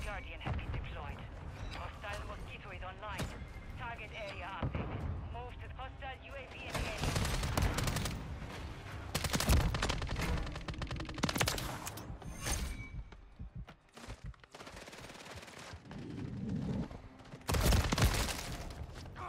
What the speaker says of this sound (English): Damn, a sentry gun?